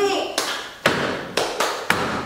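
Students in a classroom clap together in a short patterned cheer, five crisp, reverberant claps in an uneven rhythm, opening just after a brief voice.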